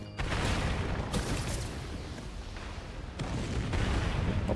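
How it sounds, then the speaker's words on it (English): A loud, sustained blast rumbles through Genshin Impact, heavy booming layered over a dense roar, with a second surge of impacts near the end; no one speaks over it. "Explosion."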